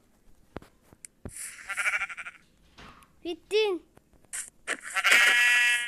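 Several short sheep bleats from Minecraft, scattered between bursts of someone talking, with clicks and other game sounds around them.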